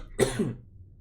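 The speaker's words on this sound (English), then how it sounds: "You clear your throat." A person clears their throat once, a short close rough double rasp lasting about half a second, followed by quiet.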